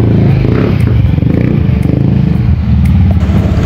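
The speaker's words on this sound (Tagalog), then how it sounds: "Yung ingay ng motor mo," Close, loud motorcycle engine rumbling with a rough, uneven idle and a clattering mechanical texture throughout.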